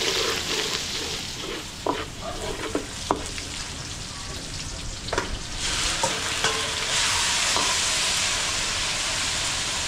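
Beef stir-fried with garlic and onion in a busy kitchen, giving a loud continuous hiss of frying with scattered clatters of a spatula against the pan, the sizzle swelling louder in the second half.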